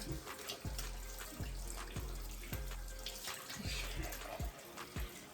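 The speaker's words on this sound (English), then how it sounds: "even like try to rinse out inside the cap too" Water from a tap splashes steadily while shampoo is rinsed out of a lace wig, with rhythmic splashing bursts as the wig is worked under the stream, close and continuous.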